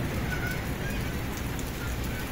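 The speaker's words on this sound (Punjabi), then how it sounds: "ਬਹੁਤ ਹੀ ਜ਼ਿਆਦਾ ਨਾ ਬਾਰਿਸ਼ ਹੋ ਰਹੀ" Heavy rain pours down in a dense, even wash of noise, steady and close with no pauses.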